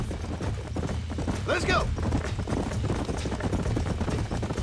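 Horse hooves clip-clop beneath a short spoken phrase during a ride in Red Dead Redemption, the hoofbeats moderately close and rhythmic amid game background noise.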